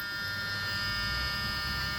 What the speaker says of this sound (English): the first thing that comes back is the annoying buzzer